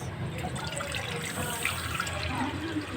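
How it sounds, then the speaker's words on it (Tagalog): Tap water runs steadily into a cooking pot being filled for a fish broth, a continuous broadband splashing rush lasting throughout at close range with no talking. "Maglagay tayo ng tubig sa ating pot para sa sabaw."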